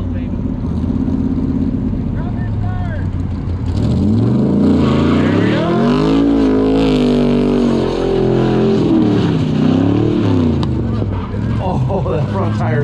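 At a burnout competition, a car engine revs hard and holds at high pitch with wavering surges while tires screech and roar. A crowd and voices are audible underneath throughout.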